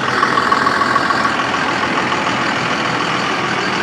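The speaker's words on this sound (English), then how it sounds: "I'm going to run this truck up the street real quick" A 2001 Cummins 24-valve diesel pickup truck engine runs steadily, a loud, continuous rumbling drone close by, with no talk over it.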